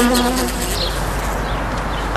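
Foraging honeybees buzz steadily and close, a dense continuous drone with wavering pitch that holds for about two seconds before a brief louder burst at the end.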